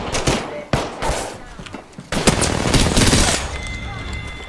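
Rapid bursts of R-99 submachine gun fire in the video game Apex Legends, loud and close, with short volleys early and a sustained stretch of shooting mid-clip before it tails off.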